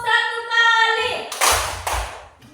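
A group claps in unison in a concentration clapping game, coming in after a sustained sung or voiced tone: two sharp, loud collective claps in quick succession, followed by a faint trailing sound.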